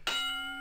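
A single bell strike rings out on a football talk show, a bright metallic ding with a sharp onset that decays over under a second, heard alone.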